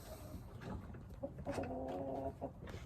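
Hens in a henhouse clucking, with a run of short, evenly repeated clucks in the middle and softer scattered bird calls around it, close by over a low background rumble.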